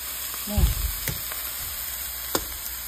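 Vegetables frying in a pan over high heat, giving a steady sizzling hiss with a few sharp clicks and a brief low thump near the start.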